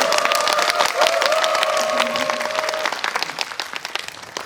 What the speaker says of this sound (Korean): 제가 오늘 태어나서 가장 많은 박수를 받는 거예요